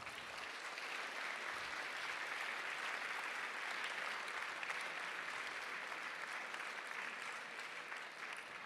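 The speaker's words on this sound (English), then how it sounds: "Please give them an applause." A conference audience at an afternoon plenary session claps in thanks to staff, technicians and caterers, producing a continuous, even wash of applause from many hands that holds steady for nearly nine seconds.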